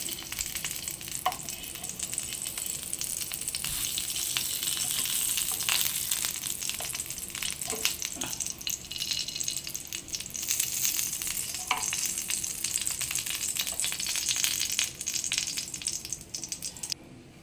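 Fenugreek leaves (methi) sautéing in a pan, a continuous soft sizzle with occasional scrapes and stirs of the utensil, steady and close, with no talking.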